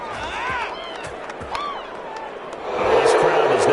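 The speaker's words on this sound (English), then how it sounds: "This crowd does not like that call." Game crowd noise in a PS4 football video game reacts to a roughing-the-passer personal foul call, a murmuring stadium crowd that swells louder toward the end, with a commentator's voice over it.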